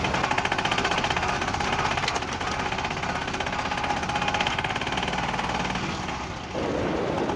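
A tractor engine runs steadily and loudly on the way to a farm field, a continuous close rumble with a brief dip near the end.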